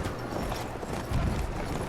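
A horse gallops in the video game Battlefield 1, a fast rhythmic clip-clop of hooves mixed into dense, busy battlefield ambience, moderately loud and steady throughout.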